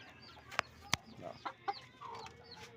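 Hens cluck softly on a farm, with a few short scattered calls and sharp isolated clucks, fairly faint against quiet background noise.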